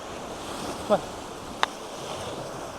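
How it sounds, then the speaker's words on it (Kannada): Steady sea surf washes continuously against rocks at a moderate distance on a beach in Bailur, Karnataka, broken by a couple of brief sharp knocks. "ಯಾವ ರೀತಿ ಅಲೆ ಬಂದು ಹೊಡಿತಾ ಇದೆ ನೋಡಿ"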